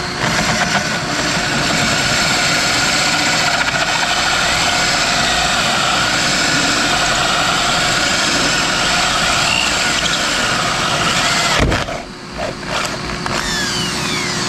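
A power drill whirs loudly and steadily at close range as it drills through fiberglass, cutting out briefly near the end before starting up again.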